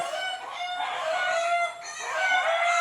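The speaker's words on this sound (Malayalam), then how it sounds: "എന്താണ് അവിടെ കോഴിയുടെ പാട്ടച്ചേരി" Chickens cluck and a rooster crows near a sugar apple tree on a farm, several calls overlapping close by in a busy, continuous chorus with no voices.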